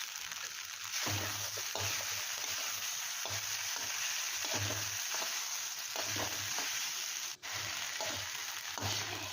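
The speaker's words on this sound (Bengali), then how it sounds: "ভাজা আলুটা দিয়ে আবার কিছু সময় ভেজে এরপরে আমি সাবুদানাগুলো দিয়ে দিলাম" Sago pearls and fried potato sizzle in a pan, a steady hiss of frying broken by repeated low scraping stirs at an even pace, close and fairly quiet, with no voices.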